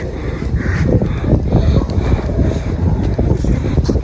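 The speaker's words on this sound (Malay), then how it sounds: "Sedap angin dia." Strong wind buffets the microphone steadily from start to end, a continuous loud roar with faint water or boat sounds mixed in during an outing on the way to the Gua Tempurung cave in Perak.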